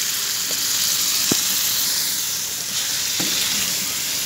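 Hand-minced keema frying with potatoes in a spiced masala in a pan makes a loud, steady sizzle, with a few faint stirring scrapes and taps.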